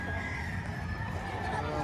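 A rooster crows at a livestock market in Padre Garcia, Batangas, one sustained call heard faintly through a noisy crowd with voices talking nearby.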